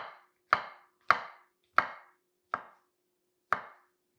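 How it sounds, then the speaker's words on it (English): Knife slicing mushroom stumps on a cutting board, six crisp, close chops in an even rhythm with quiet gaps between them. "take your stumps, cut them all into little pieces, just like you would a mushroom. So we can go ahead and slice them."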